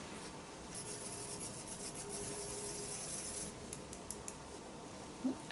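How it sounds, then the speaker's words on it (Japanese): Dry pastel stick scraped against a tea strainer's mesh to grind it into powder, a steady close soft rasping that keeps going without pause, no talking. "背景はお好きな色を選んで茶こしで削って粉にして塗っていきます。"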